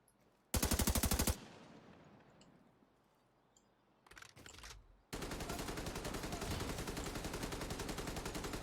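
Machine-gun fire in The Division 2 comes as a short loud burst of rapid shots. After a quieter gap, a second brief burst follows, then a sustained loud stream of automatic fire runs to the end.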